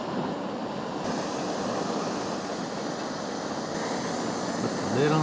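Small backpacking stove burning with a steady, broadband roar at dinnertime on a forest trail, a constant close hiss that holds evenly throughout with no talking.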